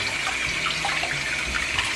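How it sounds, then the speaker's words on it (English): Tap water runs steadily over plant leaves being rinsed, a close continuous hiss and splash at an even level with slight gurgling underneath. "Rinsing off the back of these leaves. Then we'll rinse off the front."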